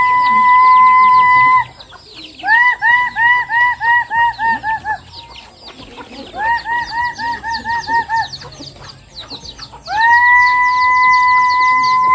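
Chickens being fed make loud, close clucking and crow-like calls in repeated runs of rhythmic pulses, broken by longer sustained tones and short quiet gaps.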